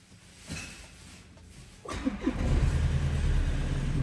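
A 2015 VW Passat B8 engine with 268,000 km, unstarted for about a month, cranks briefly and then catches, settling into a steady low idle rumble that continues to the end.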